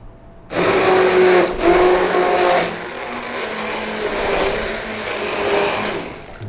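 An electric blender whirs loudly and steadily for several seconds, pureeing a curried carrot coconut soup with cilantro. The motor pitch shifts slightly as the thick mixture churns, with no voices over it.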